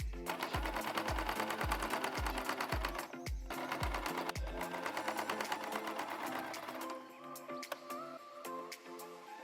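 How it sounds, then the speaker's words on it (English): A sewing machine stitches the folded edges of fabric handle strips in a fast, steady mechanical run with rhythmic low thumps for the first half, then keeps whirring more lightly before easing off near the end. "fold the edges of the handle strips in and sew"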